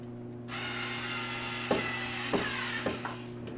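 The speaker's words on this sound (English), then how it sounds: "Now we can go and tighten them both down." A ratchet tightens screws on a kitchen cabinet pull handle, three short clicking bursts spaced about half a second apart over a steady electrical hum, close and fairly quiet.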